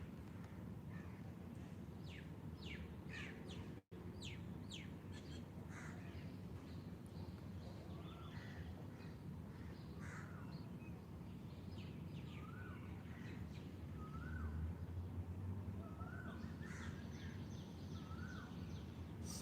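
Wild birds chirp and sing outdoors during a morning yoga session, with repeated short calls and trills scattered through a steady background hum, fairly faint and distant.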